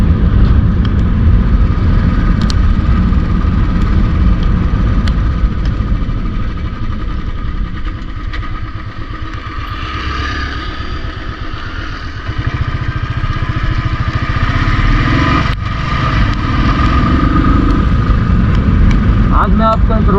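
A Royal Enfield Thunderbird 350 engine runs loud and close with a steady low throb, riding at night on a fresh battery, its level dipping briefly in the middle before returning.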